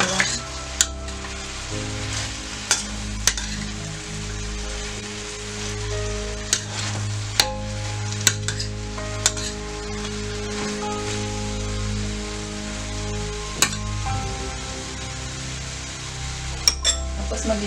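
Baguio beans, carrots and ground pork sauté in a pan while being stirred, giving a steady sizzle punctuated by sharp metallic clinks and scrapes of the utensil against the pan.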